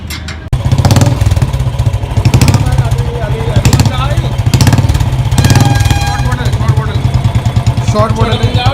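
A motorcycle fitted with a short bottle aftermarket exhaust idles loud and close with a steady, throbbing low pulse, and voices talk over the engine throughout.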